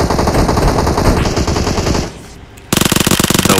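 Automatic gunfire in the battle royale game PUBG on the Sanhok map rattles loudly in rapid bursts, pauses briefly, then resumes in another fast, sharp volley.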